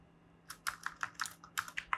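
Keys clacking on a computer keyboard while a CSS animation property is typed, about ten distinct keystrokes in an irregular run, close and clear over a faint steady hum.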